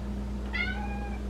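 A pet cat gives a single short meow close by, set against a quiet indoor kitchen hum.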